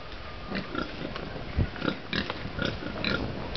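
Pigs on a farm grunt and snuffle close by in short, uneven bursts, a few louder grunts standing out over a quiet background.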